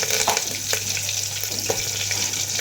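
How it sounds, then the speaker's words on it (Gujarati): Mustard seeds, whole cumin and curry leaves sizzling in hot oil for sambar, a steady loud crackle with scattered sharp pops throughout, no talking. "આપણે તેલ આવી ગયું છે એની અંદર આપણે રાઈ થોડીક એવી એડ કરી દઈશું આખું જીરું મીઠા લીમડાના પાન સરગવો"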